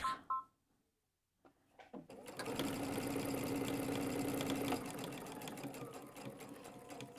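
A sewing machine stitches a quilt medallion using short 1 mm stitches, starting after a moment of near silence and then running in a close, steady mechanical whir for several seconds.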